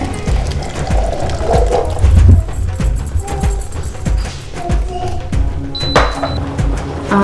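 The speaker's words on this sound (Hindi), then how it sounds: "मैं इसमें डालती हूँ चने। ये मेरा पहले से उबले हुए हैं, उसको जो पानी है वो भी शामिल करना है" Pre-boiled chickpeas and their cooking water are tipped into a pot for Lahori chole, giving a close, continuous liquid splashing with clinks and knocks of metal utensils against the pot.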